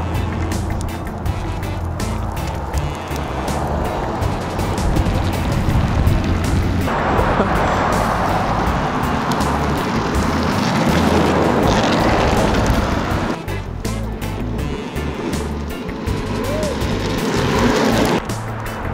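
A WowGo electric skateboard rolls across a parking lot with a constant loud rumble of wheels on pavement and a motor whine, plus wind buffeting, steady and close for the whole stretch.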